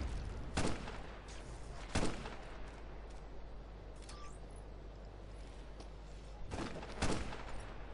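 Gunfire in the video game Ghost Recon Future Soldier: a few short sharp bursts, spread apart, over a steady background hiss with no talking.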